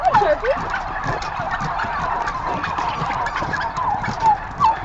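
A turkey gobbles in a continuous warbling run, loud and near, with a couple of sharper bursts toward the end.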